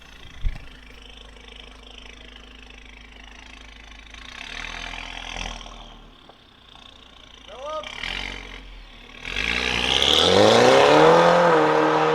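A Mercedes GLA200 1.6 with a remote-controlled valved exhaust idles and then revs at an exhaust workshop, the engine note swelling briefly mid-way and then rising into a loud, sustained rev, with people talking nearby.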